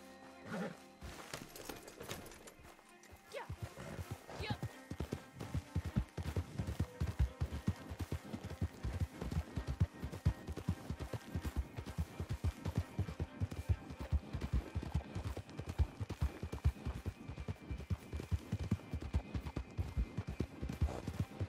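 A horse in Red Dead Redemption 2 Online gallops with rapid, steady hoofbeats after a short quiet start, close and continuous with a snort or whinny early on.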